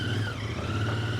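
A Royal Enfield Interceptor 650 twin-cylinder motorcycle ticks over at a steady idle close by, a low even engine hum with a faint high whine running across the whole short stretch.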